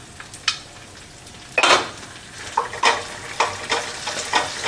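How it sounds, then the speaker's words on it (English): Onion whites sizzle in a hot pan for honey sriracha pork, with a close frying hiss and several sharp scrapes and clinks of a utensil stirring against the pan. "We get the whites of the onions going in here."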